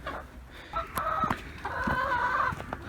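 Chickens cluck nearby while a rooster crows, several overlapping fowl calls in an outdoor farmyard setting.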